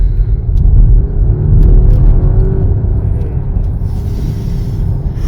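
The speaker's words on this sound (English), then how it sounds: "Okay guys, so get ready for a bit of an acceleration." A 2024 Volvo XC60 T8 Recharge hybrid accelerating hard, heard from inside as a loud, steady low rumble and whir that builds without pause.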